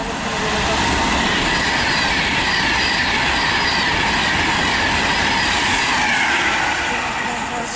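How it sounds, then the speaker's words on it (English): A Pendolino train on the West Coast Main Line passes through Tamworth station with a loud, sustained rush of wheels and rail noise that swells and holds for several seconds, its wheels squealing faintly. "Passing through now, got another Pendolino."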